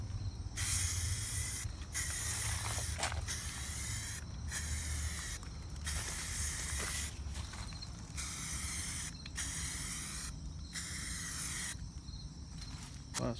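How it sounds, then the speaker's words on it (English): A spray can of primer fires repeated bursts inside a makeshift spray booth, several sharp hissing sprays separated by short pauses, close and fairly quiet over a low background rumble. "So I'm just gonna go ahead and just put a few coat, like 1 or 2 coats of primer on these"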